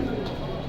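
Pigeons from a big-sized Army breed pair coo softly and steadily, a low murmuring pulse close by, with people talking over it.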